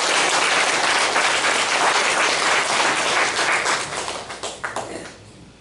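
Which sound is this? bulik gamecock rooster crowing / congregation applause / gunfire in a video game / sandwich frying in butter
congregation applause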